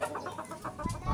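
A large four-month-old chicken clucks in quick, close, repeated notes on a farm.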